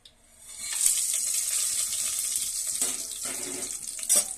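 Whole spices, cashews, bay leaf, cardamom, cloves and cinnamon frying in hot ghee for Bhimavaram-style chicken pulao, giving a steady close sizzle with brief louder crackles toward the end and no talking.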